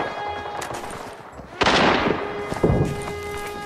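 Gunshots in a shooter video game, including sniper fire: two sharp, loud cracks about a second apart, each trailing into a decaying echo, over a quieter background.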